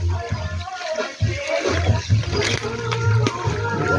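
Water rushes and gurgles steadily nearby, a continuous churning flow with some splashing surges and no voices.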